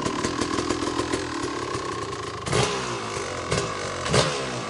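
A 1997 KTM 360SX two-stroke motorcycle engine, kick-started on the first kick, runs loudly and close with a raspy idle. Sharp throttle blips come near the middle and again toward the end.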